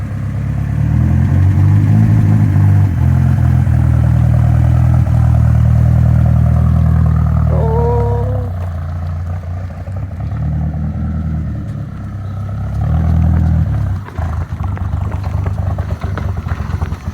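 A Chevrolet S10 truck with a swapped-in big-turbo 3.0L Mercruiser boat engine drives along, its loud, close, low engine drone steady at first, then easing and swelling again, with some clatter and brief higher whines mid-way.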